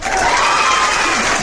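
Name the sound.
crowd applauding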